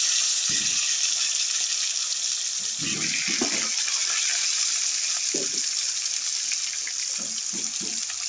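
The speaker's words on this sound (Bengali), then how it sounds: "এই তেলের মধ্যে আলুগুলোকে ভেজে নেব।" Potatoes fry in hot oil left over from frying fish, giving a steady, even sizzling hiss throughout, with a few soft low knocks and clatters scattered on top.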